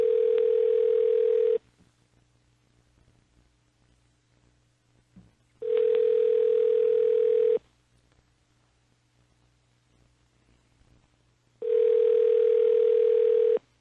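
A phone ringing on the line: three evenly spaced ring tones, each lasting under two seconds and separated by long silent gaps, steady and fairly loud.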